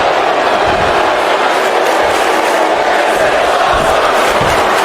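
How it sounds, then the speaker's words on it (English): A wrestling arena crowd at a WWE SmackDown championship match roars and cheers in a steady, dense wall of noise that stays loud for the whole stretch, with no clear single voice standing out. "And the crowd is liking what they are seeing from Grayson Waller"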